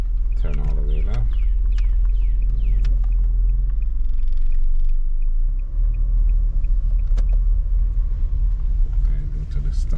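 A car on a Florida driving road test gives a steady low engine and road rumble from inside the cabin, with voices talking over it.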